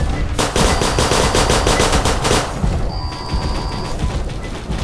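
Video game gunfire from a rapid automatic weapon bursts loud and continuous for about two and a half seconds, followed by more scattered shots and a brief tonal ring from the game.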